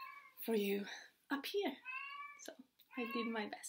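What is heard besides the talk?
cat meowing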